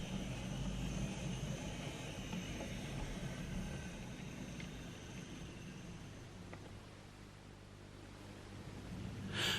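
Model Maunsell L1 class 4-4-0 locomotive on a model railway, a steady, smooth low rumble and whir that runs continuously and eases off slightly toward the end, with no talk.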